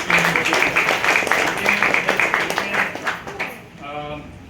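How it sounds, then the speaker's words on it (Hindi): An audience claps for teachers at a school program, steady rhythmic handclaps under a speaker's amplified voice, fading out near the end as the talking continues. "उनके लिए एक बार जोरदार तालियां"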